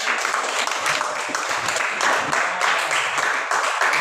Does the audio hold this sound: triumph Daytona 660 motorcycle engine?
no